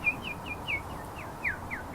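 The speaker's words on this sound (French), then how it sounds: "t'entends les oiseaux?" Small songbirds chirp in quick, bright bursts, about eight short sweeping calls spread across two seconds, each clear and close over a faint steady background hush, with no talking.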